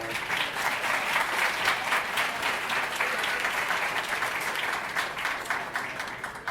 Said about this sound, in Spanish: les damos un fuerte aplauso para...